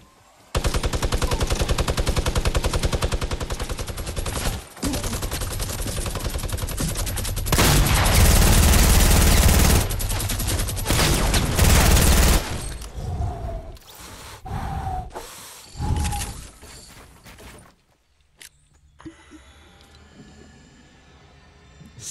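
A minigun in the Fortnite battle royale game fires long, loud, dense streams of rapid shots almost without pause, then ends in softer intermittent effects and quieter ambient game noise.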